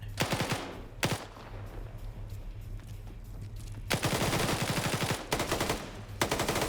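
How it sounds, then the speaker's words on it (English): Machine gun fire in a PvP match of a military video game, sounding as several loud sustained bursts of rapid shots with short pauses between them, and no talk. "Use the machine gun! Hold the trigger down!"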